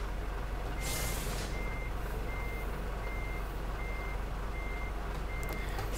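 Truck in Euro Truck Simulator 2, a Mercedes Actros crane truck, reversing to park: a steady repeating reversing beep over constant engine drone, with a brief burst of air-brake hiss near the start.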